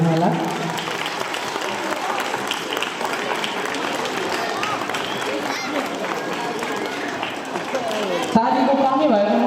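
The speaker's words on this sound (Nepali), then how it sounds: "कार्यक्रमको उद्घाटनमा चाहिँ सबैजनाले ताली बजाएर कार्यक्रमको उद्घाटन गरिदिनु होला" Audience applause at the inauguration of a school's annual program, a dense, steady wash of clapping from a crowd lasting throughout, with voices mixed in and a brief change near the end.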